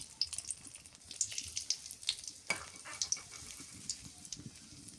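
Bay leaf, cardamom, cinnamon and cloves fry in hot oil with a soft, steady sizzle and scattered small pops and crackles, fairly faint and close, with no talk.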